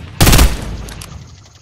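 Loud burst of video-game gunfire in Fortnite, a sharp rapid volley fading into a short echoing tail.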